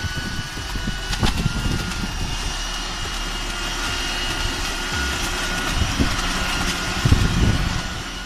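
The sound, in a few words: leaf blower vacuum running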